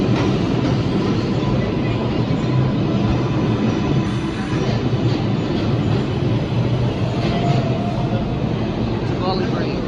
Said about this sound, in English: Here's the 4 train.